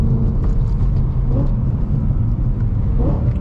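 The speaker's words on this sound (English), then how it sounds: "Man, listen to those downshifts." A modified 2010 BMW E92 M3 heard from inside while driving, a loud continuous engine rumble with two brief rising blips as it downshifts, no talking.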